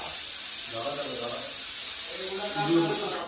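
A household pressure cooker vents steam in a kitchen with a steady, loud hiss that runs unbroken throughout, while faint voices murmur underneath.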